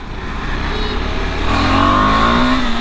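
A KTM 250 Adventure motorcycle engine revs up, its pitch climbing steadily over a couple of seconds, loud and close with no talk.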